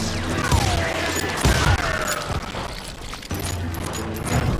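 Gunshots in the Call of Juarez Gunslinger Western video game sound as a few sharp, scattered cracks over a busy background of ambient noise, with no talking.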